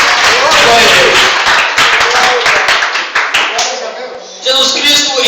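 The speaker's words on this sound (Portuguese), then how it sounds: "Se assente aplaudindo o Senhor." A church congregation clapping loudly while seated, with thick continuous applause and voices mixed in. It thins out toward the end and then swells again.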